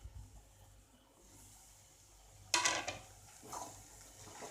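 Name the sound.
stirring bread upma in a pan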